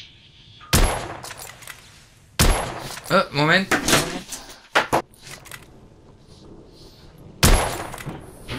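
Gunshots in The Order: 1886 on PS4, three sharp loud bursts spaced apart, with German-speaking voices talking in between.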